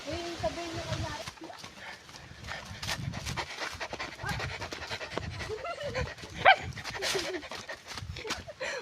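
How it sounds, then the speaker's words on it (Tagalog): A dog panting rapidly in quick rhythmic breaths, close by on an outdoor nature trip, with people talking faintly in the background. "Parang aso."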